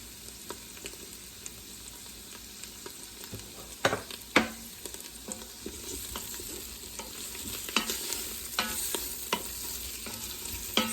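Carrots cooking in a pan with butter, herbs and garlic, giving a steady, fairly faint sizzle with occasional sharper stirring clicks and scrapes, no voices.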